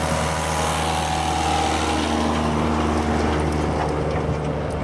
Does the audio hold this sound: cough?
no